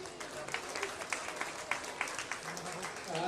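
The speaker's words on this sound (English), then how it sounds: "give these two junior showmen a big round of applause" An audience at a show ring at the Preston County Buckwheat Festival applauds junior showmen with a soft, steady patter of clapping, faint and distant, with voices mixed in.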